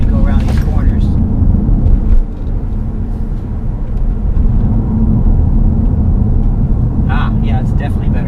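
Steady low road rumble inside a 2013 Ford C-Max Energi plug-in hybrid as it drives and uses regenerative braking through corners, with a constant cabin drone and a brief muffled voice.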